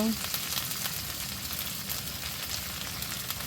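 Goat meat fries with spices in a pan, giving a steady, moderately loud sizzle that runs continuously without pause.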